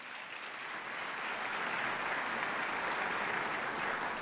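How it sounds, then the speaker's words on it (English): A crowd at a Nebraska Athletics awards evening claps steadily in a dense, even wash of applause that holds at full strength throughout, with no voices standing out. "Give yourselves a round of applause."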